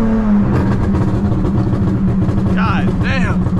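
A V6 Dodge Charger in FA Green revs hard as its tires spin on slightly damp pavement, a loud steady engine drone with rising whine sweeps near the end, under excited talk from inside the car.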